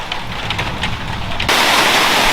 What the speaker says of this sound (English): We're up to 4 millimetres of rain now, so it's definitely registering.